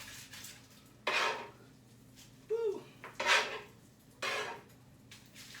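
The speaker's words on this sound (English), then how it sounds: "Here I go, plating up my broccoli here" Dishes and cutlery clatter as broccoli is plated up in a home kitchen, with three or four separate bursts of scraping and clinking spread across the stretch and a short vocal exclamation between them.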